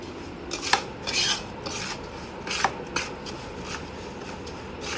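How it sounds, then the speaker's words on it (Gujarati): A spoon scrapes and clinks against a pan while mango pickle gets stirred, giving a run of close metallic scrapes and taps in an uneven rhythm with no talking. "પેલા આને આપણે સરસ મજાનું હલાવી દઈએ"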